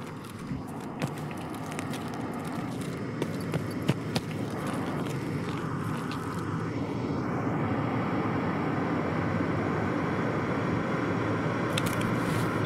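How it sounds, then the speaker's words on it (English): Airplane flying overhead in Escape from Tarkov, a broad steady engine roar that builds gradually over several seconds, with scattered clicks and thumps from gameplay. "There's our plane."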